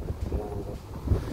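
Strong wind buffets the microphone near a bridge over a river in an Edmonton park, producing a low, steady roaring rumble with gusty swells and no talking.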